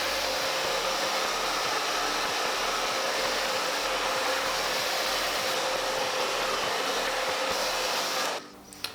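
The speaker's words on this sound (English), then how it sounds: "I'm actually gonna take the blow dryer to it" A Drybar blow dryer runs steadily on damp hair, a loud close hiss and whine held for about eight seconds before it cuts off near the end, with no voices.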